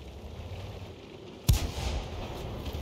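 A 76mm tank gun fires once in World of Tanks, a single loud boom cutting through quiet engine rumble and followed by a lingering rumbling tail.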